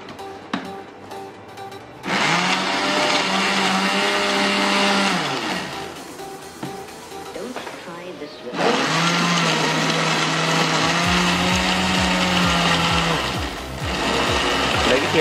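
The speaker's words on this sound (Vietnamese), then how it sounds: "bây giờ mang máy sinh tố ra nghiền đi" A blender grinding watermelon for jelly: loud, steady motor whirring in two long bursts separated by a brief stop, with pitch shifting as the fruit breaks down, close by.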